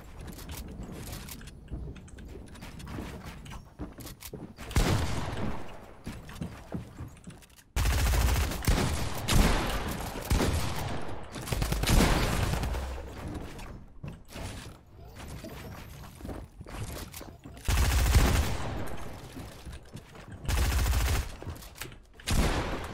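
A drum gun in Fortnite fires in rapid, dense bursts, loud and close, with brief gaps between volleys and other game effects mixed in.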